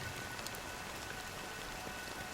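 Steady rain falls in the video game Honkai: Star Rail, an even, soft hiss of drops on surfaces that continues without a break and without voices.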